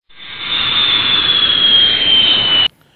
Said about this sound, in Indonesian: Pesawat pun lepas landas.